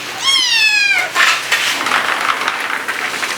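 A cat gives one clear, close meow with a rising, wavering pitch, followed by softer rustling and light household clatter.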